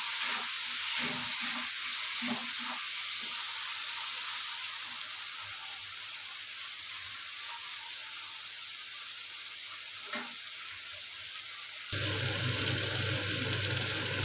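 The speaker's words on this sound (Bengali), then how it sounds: "টমেটো দিয়ে এগুলোকে ভাজতে থাকো।" Onions and spices fry with tomatoes in a pan, giving a steady, even hiss of sizzling that runs throughout with only a faint knock or two and no talking.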